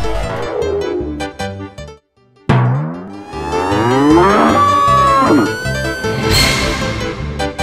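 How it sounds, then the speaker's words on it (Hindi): A cartoon bull in a Hindi animation lets out loud, drawn-out mooing bellows, with a brief gap, then a long rising and falling call over a busy musical soundtrack. "अरे बटलू भैया, अरे देखिए वो सामने वाला जो सांड है वो आप ही की तरफ आ रहा है"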